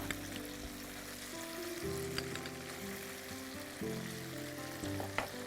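Chopped green chili and ginger sizzle in hot oil for a steady, close crackle, with occasional stirring and light clinks over a low background hum.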